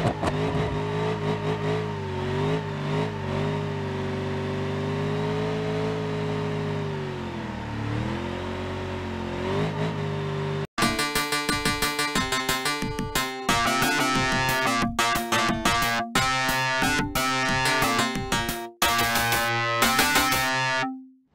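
A twin blown V8 Jeep in the BeamNG.drive driving game idles with a wavering engine tone, then revs hard in loud choppy bursts broken by abrupt cuts, with no talking.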